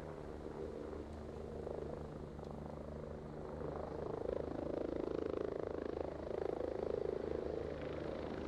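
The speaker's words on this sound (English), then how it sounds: "Hostile chopper overhead." Hostile helicopter passing overhead in Ghost Recon Breakpoint, a low rotor thrum that swells louder about halfway through and stays steady and fairly distant, with no talk.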